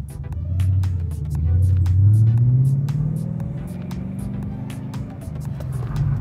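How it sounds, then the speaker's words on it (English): A car spins through a handbrake donut while drifting, its engine a loud, steady rumble that swells and rises in pitch around the two-second mark, then holds a throaty drone. No one speaks. "once the handbrake gets it spinning, I'm going to try to do a donut"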